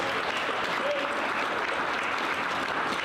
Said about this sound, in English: how about a nice round of applause for Mrs. Apicola